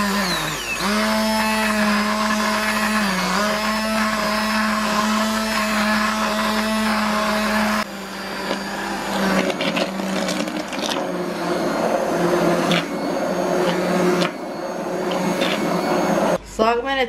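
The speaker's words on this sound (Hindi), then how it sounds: "साग मैंने अच्छी तरह ग्राइंडर कर लिया" Electric grinder blending cooked mustard greens (saag) with homemade wheat flour for Punjabi sarson ka saag, a loud steady whirring motor drone that shifts pitch partway through and runs continuously for the whole stretch.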